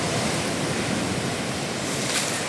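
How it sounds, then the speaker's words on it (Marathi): Waves surge against a seaside embankment, pouring water over it in a continuous loud roaring wash with steady broadband churn and no pauses throughout. "आता ही लाट आली आणि हे सगळं पाणी"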